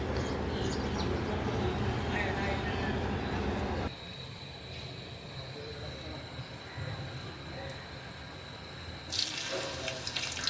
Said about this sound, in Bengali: এদিকে হচ্ছে আমি শাকগুলা ভিজে দিয়ে রাখছি